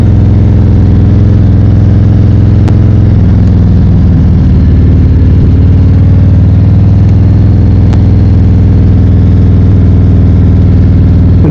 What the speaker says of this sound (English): Then you get on the motorcycle, you start it,